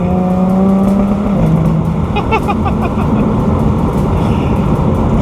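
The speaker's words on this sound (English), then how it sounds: "I'll just put a microphone on the exhaust system and you guys can just listen to it." A Jaguar F-Type S exhaust drones loudly at steady revs, the pitch dropping as it eases off, with road rumble beneath.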